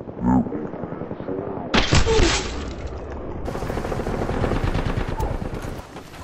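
Apex Legends gunfire: loud bursts of rapid automatic shots with sharp cracks, a heavy volley near the two-second mark, then sustained chattering fire with other game sounds underneath.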